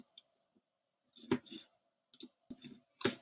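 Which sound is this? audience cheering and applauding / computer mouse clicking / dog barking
computer mouse clicking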